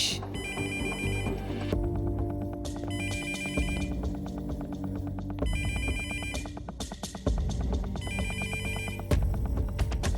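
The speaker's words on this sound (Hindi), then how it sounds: "गोनूलापा, गोनूलापा का फोन है।" An electronic phone ringtone plays on repeat, a bright chiming melody cycling in bursts, loud and steady throughout.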